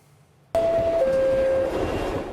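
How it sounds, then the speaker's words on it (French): Subway train at City Hall metro station in New York, beginning suddenly with a loud rumble, a two-tone electronic chime and steady rolling noise close by, with no talking. "On s'arrête à la station de métro City Hall"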